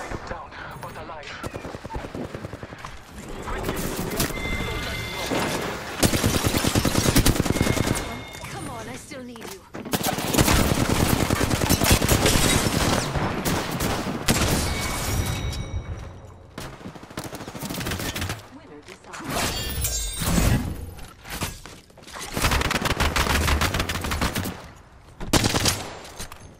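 Bursts of rapid automatic gunfire in an Apex Legends match, repeated volleys separated by short pauses, loud and close, with voice callouts in between.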